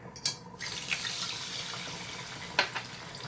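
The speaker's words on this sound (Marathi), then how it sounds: "हे दोन वाट्या पाणी घेतले ते मी घालत आहे" Water runs and splashes into a pot in a steady stream for rice-flour modak dough, with a couple of brief clinks, close and fairly quiet.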